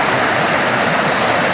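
Stream water rushes and splashes steadily, close and loud, a dense continuous hiss with no pauses and no voices.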